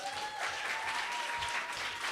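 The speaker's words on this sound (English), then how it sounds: "Can you give me some claps?" An audience at a youth poetry open mic claps steadily for a couple of seconds, dense even applause filling the room with no voices on top.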